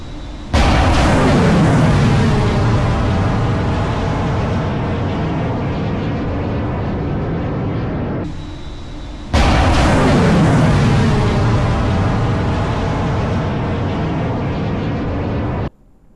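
Missile test launches from the Indian Navy warship INS Surat, two loud sustained roaring bursts, each starting abruptly and rumbling on for several seconds before cutting off, with no voices.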